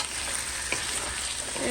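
A panful of vegetables fries hard over high heat for a vegetarian lasagna, giving a dense, even sizzle with one brief stir scrape near the middle.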